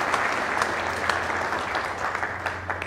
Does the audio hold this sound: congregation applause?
yes